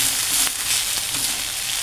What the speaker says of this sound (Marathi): अजून थोडासा मी भाजणार आहे, असा कलर आला आहे, असा कलर येईपर्यंत भाजून घ्यायचा तेलात।